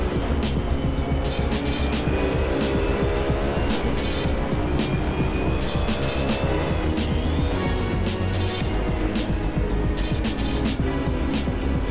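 GT3 race cars race at Spa in the Assetto Corsa video game, with continuous loud engine roar and wavering revs, repeated sharp gear-shift bursts, and several cars sounding at once.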